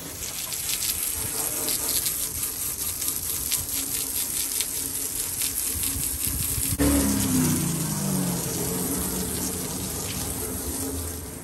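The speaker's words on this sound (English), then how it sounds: "I got it all hosed out" A hose spraying water into a rusted metal box treated with phosphoric acid, a steady close gushing and splashing rush with the water pitch shifting partway through as the box fills, with no talk.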